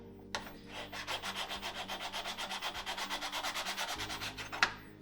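Rhythmic back-and-forth sanding of hardened epoxy squeeze-out on wood, a steady run of close, even strokes with a sharper scrape near the end.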